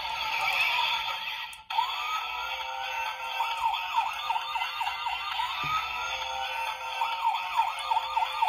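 A DX SirenStriker toy from Lupinranger vs. Patranger plays its standby sound, a looping electronic siren wail with repeating warbling sweeps over a bright synthetic tone, steady and close throughout after a brief cut near the start.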